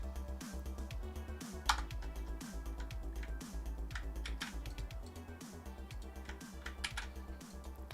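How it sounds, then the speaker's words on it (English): Steady typing on a computer keyboard, rapid uneven clacks of keys pressed close by and fairly quiet, with a few louder strikes standing out from the continuous rhythm. "The typing?"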